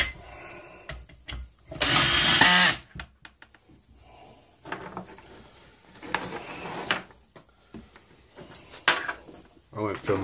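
A power tool drives Allen bolts into the crankcase halves of an MZ ETZ 250 motorcycle engine, giving one loud, close whirring burst about a second long, then scattered clicks and handling noises while someone talks.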